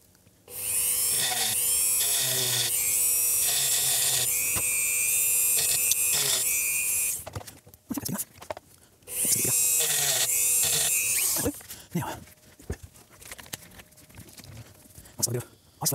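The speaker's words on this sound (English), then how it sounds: "So I just need to grind away some of that protective coating." Small rotary grinder buzzing loudly as it grinds protective coating off a circuit board during repair of a Marshall JMP 2104 amplifier, two long sustained bursts broken by short pauses and clicks, with brief talk between.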